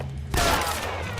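A single loud gunshot from the video game L.A. Noire, with a sharp crack that breaks over a low hum and rings out briefly.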